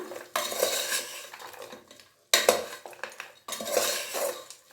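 A spoon scraping and clanking in a pot as chili and coriander powder are stirred into mutton head curry, three bursts of busy metal stirring separated by short pauses, with faint sizzling beneath and no talk.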